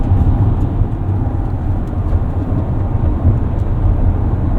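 A 2024 Mercedes-Benz eSprinter electric van rounds a corner, heard from inside the cabin as a steady, loud hum of road and tire noise with no voices.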